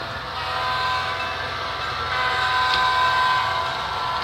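A Baltimore and Ohio Royal Blue passenger train rumbles steadily along with a continuous mechanical drone and faint whining tones, getting slightly louder toward the end.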